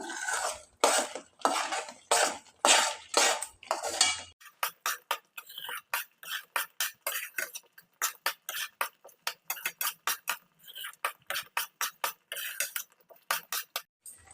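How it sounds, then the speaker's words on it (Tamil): Mango thokku being stirred in a pan, with a steady run of short, regular utensil scrapes and clicks against the metal, close up and with no talking. "கைவிடாமல் கலக்கிக்கிட்டே இருக்கணும்"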